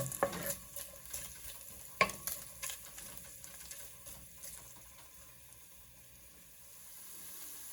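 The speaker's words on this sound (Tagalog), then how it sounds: "Igisa natin ang karne. Hanggang mag-golden brown." Meat being sautéed in a pan until golden brown, heard as a faint, steady sizzle with a few stirring scrapes and clinks early on, then fading to a quiet, even hiss.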